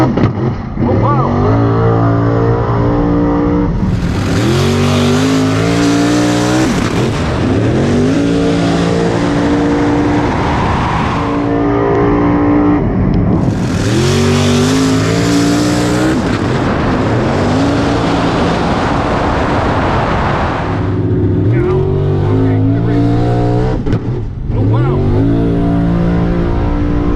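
Nitrous-fed drag race car at the line launching hard and accelerating in a loud, sustained engine roar with repeated rising gear pulls, close and dominant throughout.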